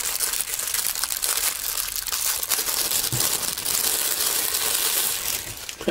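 A plastic bag is crinkled and handled up close while a guitar tuner is unpacked, giving dense, continuous crackling and rustling with a few sharper crunches and no talking.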